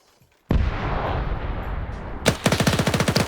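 A PPSh submachine gun in a World War II shooter, heard after a long, roaring burst of fire and then a rapid, evenly spaced stream of loud, close sharp shots.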